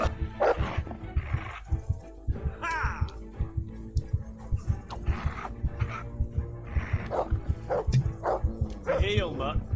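A dog in the Kingdom Come: Deliverance game barks repeatedly in loud, close, rapid bursts, mixed with growls and snarls during a scuffle, with voices heard alongside.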